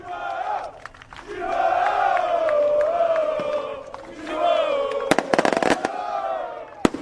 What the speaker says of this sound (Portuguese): A chegada dos torcedores com fogos, os cantos, por enquanto os cantos apenas de apoio.